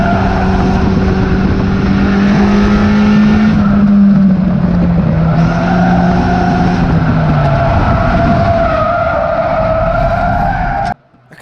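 Race cars scream around the oval at Cowdenbeath Racewall on the final lap, engines loud and close with a sustained skidding tire squeal and shifting engine pitch, ending with an abrupt drop.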